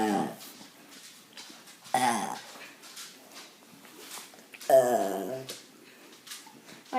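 A dog gives two short whimpering yips, close by and fairly loud, separated by quiet room tone.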